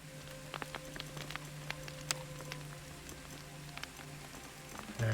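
Rain falls in the video game Soulmask, a faint steady patter with scattered sharp drop clicks over a low ambient hum, quiet and continuous throughout.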